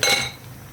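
A metal lid lifted off a pot of bubbling mola fish, potato and tomato curry, giving a short bright clink at the start, then fading into a soft simmer.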